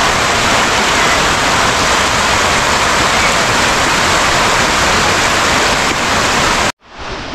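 Fast, heavy water pours down Mau waterfall in a steady, loud, broadband roar close by, with no voices, and it cuts off abruptly near the end.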